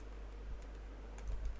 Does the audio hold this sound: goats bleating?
no